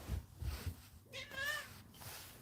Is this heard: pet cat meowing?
yes